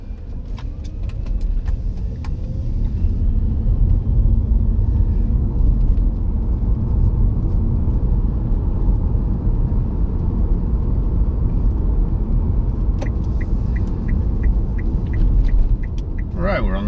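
A car rolls along the road at steady speed, its engine and tyre rumble a constant close drone for most of the stretch, with faint chatter and radio clicks near the start and end.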